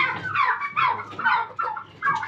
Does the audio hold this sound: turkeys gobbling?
yes